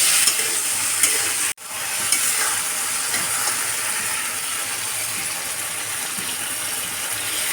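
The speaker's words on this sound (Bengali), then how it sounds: "মাছটাকে আগে এইভাবেই নেড়ে চেড়ে নিচ্ছি, একটু হালকা ভেজে নেবো আর কি এভাবে" Small mola fish being stirred and lightly fried in a pan, a steady broadband sizzle with scraping stir strokes throughout and one brief dropout early on, no talking.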